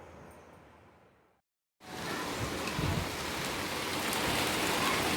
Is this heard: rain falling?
yes